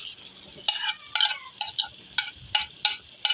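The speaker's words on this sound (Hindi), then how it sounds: "अब हम इसमें कीमा शामिल करेंगे।" Minced meat being stirred and fried in a pan with softened, cooked-down tomatoes for keema with bottle gourd and potato: a series of sharp scraping stirs with light sizzling, close and clear, no talk.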